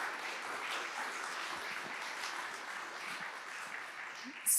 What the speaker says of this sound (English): Can we get a round of applause for Lela Sewell-Williams and Rebecca Shipman?